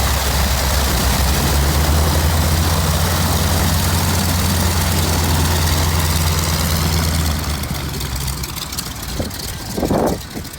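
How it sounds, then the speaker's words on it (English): Ford Trimotor plane engines idling and taxiing, a loud steady low drone with deep propeller hum close by, easing slightly near the end with a brief rise in engine noise. "get to start up the engines and taxi the plane to the hangar"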